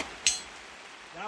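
A single sharp metallic ping of a pistol round striking a steel target at 100 meters in the rain, one brief clang rising out of a quiet rainy background with faint voices afterward.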